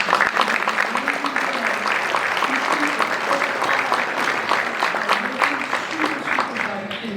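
Applause from the audience at CANTO's 39th annual conference and trade exhibition fills the room, steady clapping with voices talking over it throughout.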